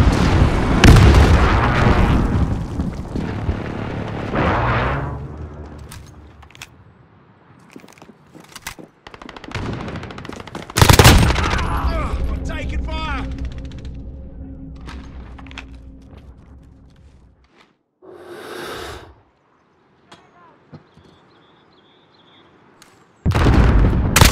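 Call of Duty Modern Warfare match on the Talsik Backlot map: loud bursts of machine-gun fire and heavy airstrike explosions. Big booms land around 11 and 23 seconds, with quieter rumbling decay and sparse shots between them.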